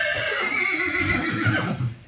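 A horse on a farm whinnies loudly and close, a drawn-out neigh with shaky tremolo lasting about two seconds and fading at the end, with no talk over it.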